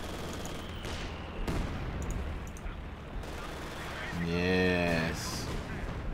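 Mortar and gunfire explosions in the video game Company of Heroes 2: a dense run of booms and bursts of fire, moderately loud, with a player's voice talking over the battle.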